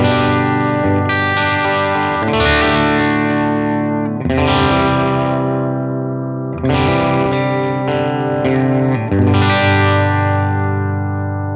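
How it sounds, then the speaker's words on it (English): Electric guitar played through a Blackstar Studio 10 6L6 valve amp on the clean channel with the bridge humbucker, ringing chords struck about every two seconds and left to sustain with reverb, loud and alone. "Here's the clean tone on the bridge humbucker."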